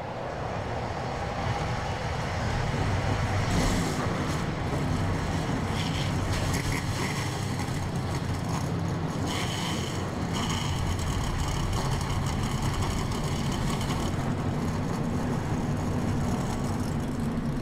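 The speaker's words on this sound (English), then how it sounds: "Let's go down the track side to fire up these engines at Watkins Glen" Stock car engines in the NR2003 racing game fire up together at Watkins Glen, forming a dense, steady roar that holds loud and unbroken for the whole stretch, with no talk over it.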